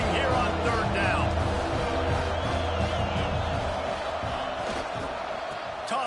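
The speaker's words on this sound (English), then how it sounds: "This Boise State crowd bringing the noise" A Boise State football crowd roars on a third-down play, a dense, sustained wall of cheering and whistling in a stadium, with a commentator's voice over the noise.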